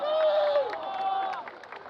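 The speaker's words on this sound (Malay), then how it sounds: "bagi tepukan untuk kawan-kawan kita" A crowd at a street rally of protest and solidarity cheers with raised, sustained voices over light clapping, a brief burst that tapers off.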